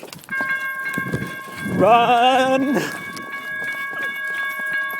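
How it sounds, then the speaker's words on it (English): A train passes close by on the line, with a loud horn blast and rattling wagons. Steady warning tones from the level crossing ring alongside, and a person speaks briefly. "Yep, that's our train."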